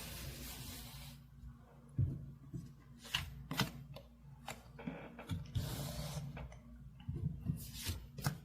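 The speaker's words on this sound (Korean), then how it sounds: "한 번 더 섞고 카드 뽑겠습니다." A deck of tarot cards being shuffled by hand, close up: soft rustling and riffling with crisp flicks and taps of card edges, in bursts over a quiet background without speech.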